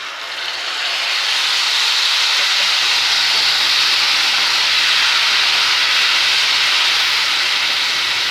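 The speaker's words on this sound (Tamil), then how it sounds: "புளிக்கரைசலை விடுறேன் பாருங்கள்." Tamarind extract poured into hot oil for temple-style tamarind rice, erupting into a loud, continuous sizzling hiss that swells within the first second and holds steady, close and alone.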